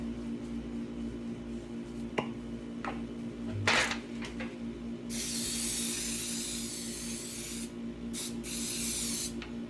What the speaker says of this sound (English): I'm gonna get my baking spray and prep my pan.